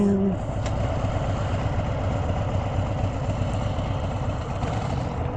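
A hot rod engine idles in a steady, rumbling, close-up chug that runs unbroken throughout, with a brief tonal sound at the very start.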